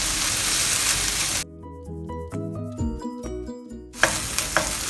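Grated ginger sizzles in a little oil in a non-stick pan, a steady hiss at the start and end, with a stretch of tonal music replacing it in the middle.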